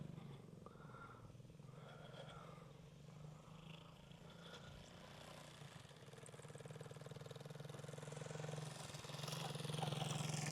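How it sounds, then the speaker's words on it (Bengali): On an empty airport runway, a motorcycle engine hums faintly in the distance and grows steadily louder toward the end as it approaches, with a little faint background murmur. "দেখুন একটা মোটরসাইকেলও চলে গেল।"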